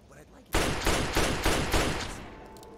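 A sidearm fires in the video game Fallout 3 as four or five loud shots in a steady rhythm, each with a short ringing tail, and the last one fades into quiet.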